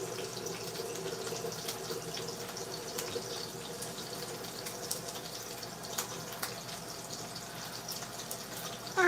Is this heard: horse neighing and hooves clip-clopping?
no